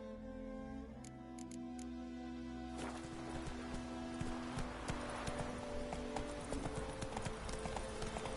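In The Witcher 3, the horse Roach breaks into a gallop, hooves clopping in a quick, steady rhythm over game music and ambient sound, continuing throughout.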